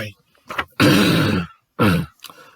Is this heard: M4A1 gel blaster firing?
no